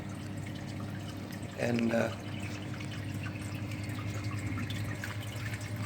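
Water trickles and drips steadily inside a custom-made aquarium sump, a soft continuous splash over a low pump hum, with a brief spoken word partway through.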